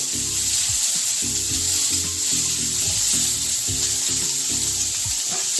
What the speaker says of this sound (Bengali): আদা, রসুন, পেঁয়াজ, কাঁচা লঙ্কা সব একসঙ্গে দিয়ে একটু ভেজে একটু জল দিয়ে সিদ্ধ করে নেব।